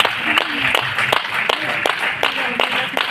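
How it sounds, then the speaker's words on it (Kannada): An audience at a prayer meeting in Bidar claps to welcome honoured guests: sharp, sparse claps in a fairly steady rhythm, several hands beating together over a noisy hall murmur, with talk in the background. "ದಯವಿಟ್ಟು ಚಪ್ಪಾಳೆ ತುಂಬ"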